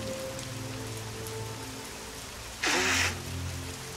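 Steady rain patters throughout, with a low hum beneath and a brief louder rush of water splashing partway through.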